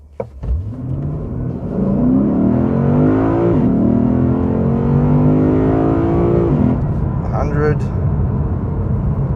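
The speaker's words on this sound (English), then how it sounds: "I'll do another run this time without the launch control. I'll just flatten the throttle." A 2020 Lexus RC F Track Edition accelerates at full throttle on a slight downhill without launch control. Its engine revs climb loudly in rising sweeps, broken by two quick upshifts, and speech is present.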